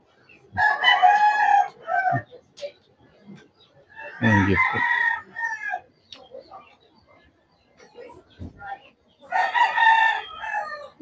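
A rooster crows loudly several times, with rain-soaked chickens clucking nearby during rainfall and a person talking in Tagalog in between.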